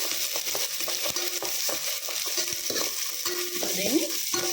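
Garlic and masala-coated rice fry in a pan with a steady bright sizzle, while a spoon stirs and scrapes against the pan in repeated clinks and scuffs close by.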